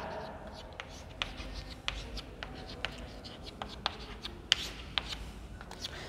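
Chalk writing on a classroom blackboard, with quick taps and scratchy strokes in an irregular rhythm, heard faintly and close with a low background hiss.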